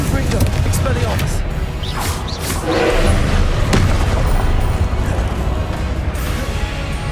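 Booming Confringo blast spells from Hogwarts Legacy, a steady run of dense, loud explosive thuds and whooshes layered over continuous game action and voice chatter.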